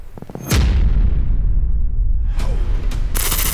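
A single sharp, loud gunshot cracks out near a fruit bat habitat, its boom rolling away over a couple of seconds before another muffled bang and a rustling burst as bats fly off.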